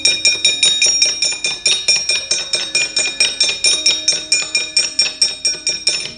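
Javanese gamelan metallophones and gongs ring out in a loud, fast, evenly pulsed pattern for a shadow-puppet performance, each bright metallic strike decaying into shimmering overtones, with no talking.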